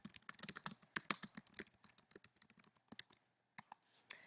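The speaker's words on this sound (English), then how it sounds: "I might want to type something of an introduction." Typing on a computer keyboard: quiet, close, rapid clicking of keys in uneven bursts, with a short pause near the end before a few last taps.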